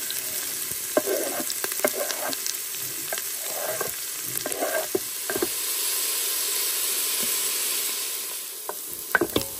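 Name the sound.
frying onions, celery and coriander in olive oil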